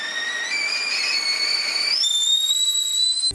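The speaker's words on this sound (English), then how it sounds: "the steam makes its way out from the hole in the spout of the kettle" A kettle whistling as steam forces out of its spout, a loud sustained shrill tone that holds steady and then jumps higher in pitch partway through.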